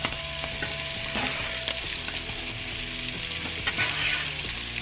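Scallops sear in a hot pan on high heat, giving a bright, steady sizzle close up, with occasional clinks and scrapes of the pan and no voices.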